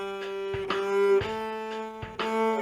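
A bowed string instrument plays a 3/4 rhythm of sustained half notes and shorter quarter notes, each bow stroke distinct, close and solo without talking.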